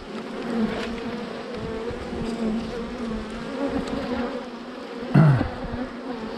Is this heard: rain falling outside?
no